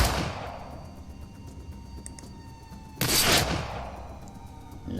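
Sniper gunfire in the video game Shadowrun: Dragonfall: a sharp shot at the start decays away, and a second loud, bright blast follows a few seconds later.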